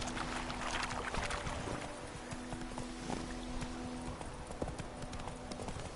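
Roach, Geralt's horse in The Witcher 3, clip-clops steadily with close hoofbeats in a regular rhythm, with a faint hum and ambient game sound behind.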